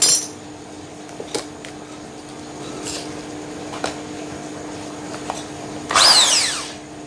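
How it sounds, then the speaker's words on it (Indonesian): A power drill bores into a wardrobe panel while fitting a sliding door: a loud, short whirring burst near the end, after a few light clicks and taps of handling in a quiet room. "langsung aja kita bor ya."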